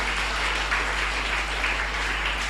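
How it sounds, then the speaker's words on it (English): Applause from a conference audience for the day's presenters, a soft, even wash of clapping held steady for a couple of seconds over a constant low electrical hum. "let us give big applause to our presenters today"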